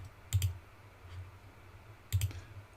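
Two quick pairs of computer mouse clicks, faint and close, crisp double taps about two seconds apart against a quiet background, with no speech.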